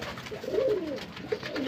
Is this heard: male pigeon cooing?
yes